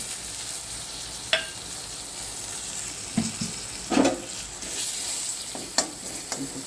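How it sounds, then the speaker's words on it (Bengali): Bay leaf and dried red chili sizzling in a small amount of ghee or oil for khichuri, a soft steady fry with a few sharp spatula clinks and stirring scrapes, close and without talk. "তেজপাতা দিলাম, সেটা ভালো মেলটা হয়। শুকনো লঙ্কা দিলাম"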